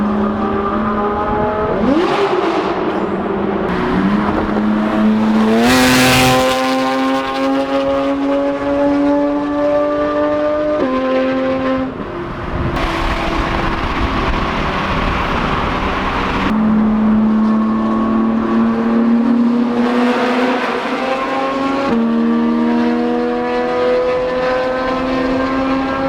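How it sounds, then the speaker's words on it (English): Loud Porsche GT3 RS engine revving and pulling hard on a drive, harmonic exhaust tones climbing and dropping through several gear changes, steady and close throughout with no talk. "This is the loudest GT3 RS I've ever heard in my entire life"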